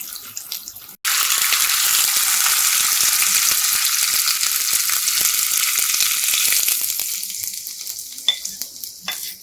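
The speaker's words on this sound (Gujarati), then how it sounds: "ગેસને બંધ કરી દઈશું અને વઘારને આપણે રાઈસ ઉપર એડ કરી દઈશું" A hot tempering of oil with a pinch of asafoetida is poured over curd rice, bursting into a loud, sudden sizzle that hisses steadily and slowly fades out.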